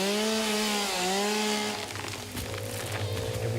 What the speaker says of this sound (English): It's a chainsaw, man